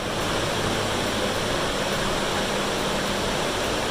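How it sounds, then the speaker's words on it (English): Four electric fans run together in a room, making a steady, even broadband whoosh that stays unchanged throughout with no voices. "I'm going to be speaking really loud because I have all 4 fans going on in here"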